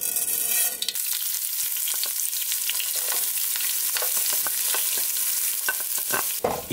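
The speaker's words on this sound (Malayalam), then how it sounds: "ഇനി നമ്മളിവിടെ കടുക് പൊട്ടിച്ച് നമ്മൾ ഒലത്തിയെടുത്ത ബ്രിഞ്ചാളിലേക്ക് ചേർക്കാൻ പോവുകയാണ്" Mustard seeds spluttering in hot oil while tempering for a Kerala brinjal theeyal; dense crackling sizzle with sharp pops, close and fairly loud, no talk.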